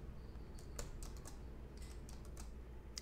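Keys on a computer keyboard are tapped in an uneven run of light, close clicks over a quiet steady background hum, with no talking.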